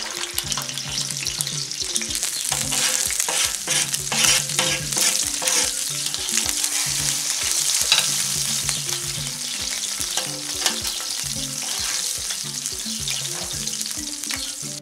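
Anchovies fry skin side down in a paella pan with a steady, close sizzle, punctuated by scraping stirs and clinks of a utensil.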